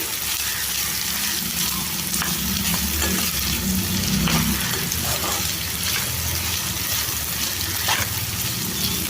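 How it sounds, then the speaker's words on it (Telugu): Dried shrimp are stirred into ivy gourd frying in a pan, with a steady loud sizzle and repeated scraping stir strokes throughout and no voices. "రొయ్యలు వేసుకొని ఒకసారి బాగా కలిపేసుకోవాలి"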